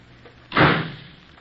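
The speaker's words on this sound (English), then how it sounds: "Then I heard the side door slam" Side door slamming shut as a radio drama sound effect, one loud, sharp impact with a brief rumbling decay over a low background hiss.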